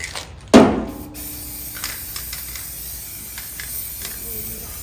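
Spray paint hisses from a can onto a rebuilt Chevrolet Nova transmission in one loud, close burst of under a second, then fades to a quiet room background.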